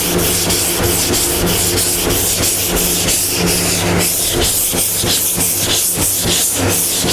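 Hard block sanding of primer on a car panel, loud continuous hissy rasping in a steady back-and-forth rhythm of strokes, close up, with no talking.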